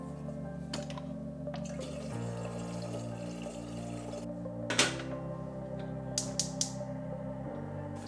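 Hot water for a Flair Neo espresso maker flows steadily into a vessel in a kitchen, a soft continuous pour with faint drips, accompanied by a few small clinks partway through and at the end.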